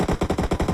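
Rapid automatic AKM rifle fire from the mobile shooter game PUBG Mobile, a loud, close burst of about eight evenly spaced shots in under a second.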